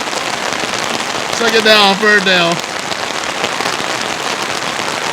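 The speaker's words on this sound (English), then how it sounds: "All I hear is the rain. That's all you gotta hear, folks. It's coming down." Heavy rain pours down over an outdoor eighth-grade football game at Ferndale, a dense, steady hiss of drops hitting surfaces throughout, with a nearby announcer briefly speaking over it.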